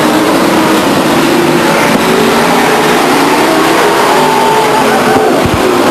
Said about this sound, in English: Conasoto and Shane Welch battling for what would be 7th and 8th place as the field comes around